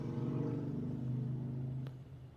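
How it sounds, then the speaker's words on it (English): A low motorcycle engine rumble drones steadily in the background, faint and distant, passing outside, with a brief click near the end. "That was just a motorcycle."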